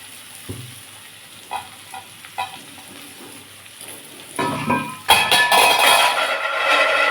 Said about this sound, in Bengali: আমার উচ্ছেটা অনেকটাই ভাজা হয়ে গেছে এবার আমি মধ্যে কুমড়োটা দিয়ে দেবো